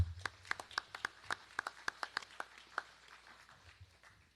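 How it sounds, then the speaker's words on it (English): Sparse audience applause at an Angus cattle sale in Lebanon, Missouri: a dozen or so distinct, crisp hand claps in a loose rhythm, fading toward the end, fairly quiet, with no talking over them. "So give them a round of applause if you would"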